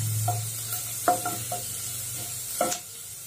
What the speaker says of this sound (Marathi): लसूण जो आहे थोडा जास्त वापरायचा आणि लालसर होऊ द्यायचा फोडणीमध्ये